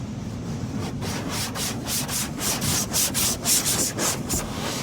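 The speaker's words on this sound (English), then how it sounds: "hear the swishing noises, it's because we're in a car wash." Rotating car wash brushes swish and scrub over a car, heard from inside the vehicle as a steady broadband rubbing with rhythmic brush slaps that grow stronger toward the end.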